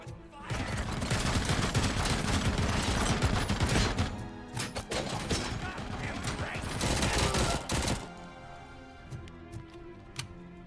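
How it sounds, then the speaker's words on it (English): Sustained rapid machine gun fire from the Robocop Rogue City video game, loud and dense for about eight seconds, then easing into scattered shots and mechanical clicks toward the end. "That damn machine gun just absolutely messes you up."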